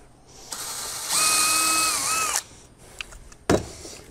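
A power drill whines up to speed and runs for a little over a second pre-drilling a deck board, then cuts out, followed by a couple of soft knocks.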